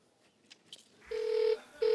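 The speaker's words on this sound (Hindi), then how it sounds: "एक मिनट फोन लगाओ, दोबारा लगाओ।" Two short electronic telephone dialing tones sound one after another, with a brief gap between them, after some faint clicks.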